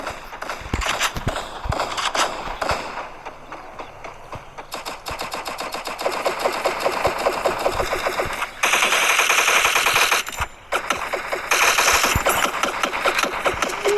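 Video game gunfire, sustained automatic bursts rattling almost nonstop, loud and close, with short breaks and shifting intensity over the length of the clip.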